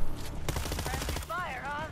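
Gunfire from the video game World War Z, a dense burst of rapid shots in the first second and a quarter, mixed with game effects and talk, then tonal warbling sounds take over.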